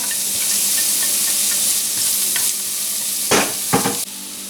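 Scallion, ginger and garlic sizzle in hot oil while preparing spicy quail, a loud continuous crackling hiss close by, punctuated by a few sharp stirring scrapes and clanks before it briefly drops off; nobody speaks.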